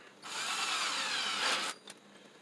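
A battery-powered drill bores a hole in wood for an outdoor outlet box, a close, loud whirring whine for about a second and a half before stopping abruptly, followed by a brief faint knock.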